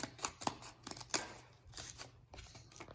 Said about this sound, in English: to use some scissors to now cut, and this will turn into our little twigs and small branches